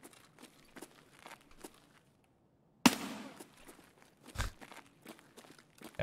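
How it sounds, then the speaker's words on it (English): Suppressed gunshots and shotgun blasts from a distant battle in the video game Escape from Tarkov, with one sharp, loud report and a deeper thump among faint footsteps and rustling. "Suppress shots, shotgun shots."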